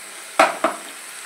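Spinach fries in oil in a pan, and two quick stirs with a utensil, close together, cut through a faint steady sizzle.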